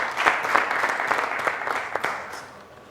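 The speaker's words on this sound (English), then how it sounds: "Let's give them a huge round of applause, ladies and gentlemen." An audience applauds at a secondary school quiz competition, with moderately loud clapping and a few sharper claps standing out before it fades toward the end.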